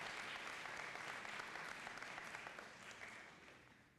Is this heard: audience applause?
yes